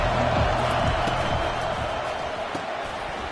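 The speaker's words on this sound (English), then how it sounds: "This crowd bringing the energy and noise early." A stadium crowd roars at a Virginia Tech vs Tennessee college football game, a broad, steady wall of cheering noise with some thuds, heard at a distance and without talk over it.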